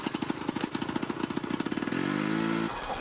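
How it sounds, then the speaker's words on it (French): A flooded cartoon snowmobile engine sputters in a rapid chugging rhythm of uneven pops, then turns into a brief strained whine before cutting out. "On dirait que votre moteur est noyé."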